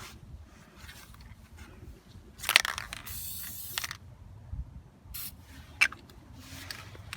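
Two short hissing sprays from an aerosol can of corrosion inhibitor during a brake pad replacement, the longer second burst lasting about a second, with faint clicks and handling noise in a quiet room.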